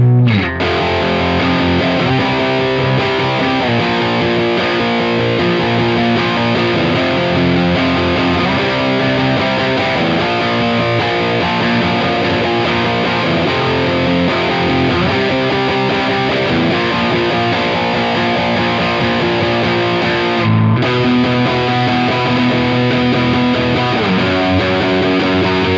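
Electric guitar through a Strymon Iridium amp modeler with an EP booster adding body, a loud, sustained distorted tone with chorus-like shimmer ringing out continuously, briefly cutting off near the end before resuming.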